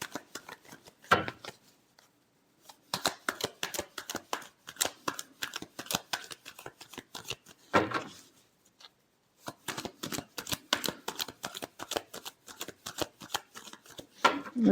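A deck of cards is shuffled repeatedly in bursts of quick riffling flutters, with short pauses between rounds and a final riffle at the end, close and fairly quiet with no talk.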